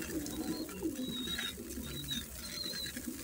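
Pigeons coo softly and repeatedly, with faint higher chirps over a steady background hum; the birds sound fairly close and no one speaks.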